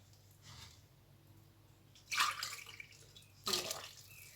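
Water poured from a glass into pizza dough made with yeast and oil, two separate splashing pours a second or so apart, close and fairly quiet over a low background hum.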